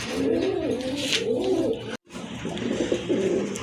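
A pair of black and white pigeons coo in repeated low, throaty rolling phrases close by, with a brief silent gap midway and no talking.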